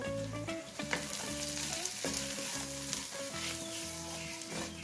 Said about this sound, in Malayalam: ഇതെല്ലാം കൂട്ടിയിട്ടൊന്ന് ഇളക്കി കൊടുക്കാം